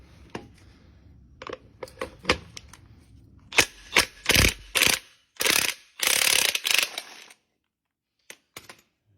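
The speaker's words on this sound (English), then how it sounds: "What I use is an extension on my 3/4 DeWalt impact gun with a 3/4 inch to a 1 inch adapter." A DeWalt 3/4 inch impact gun fitted with an extension and a 3/4 to 1 inch adapter fires several loud, close, rattling bursts after a few faint clicks, then stops.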